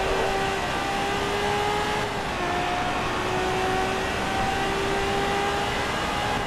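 A Ferrari F50 race car engine in Forza Motorsport 2 holds a steady high drone with slight pitch shifts, loud and continuous and close to the listener, with no talk over it.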